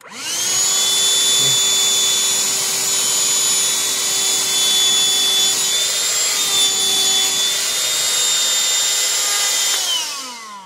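A Black + Decker Dustbuster bagless cordless handheld vacuum hums with a high, steady whine, running evenly for several seconds before cutting off.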